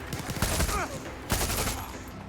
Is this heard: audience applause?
no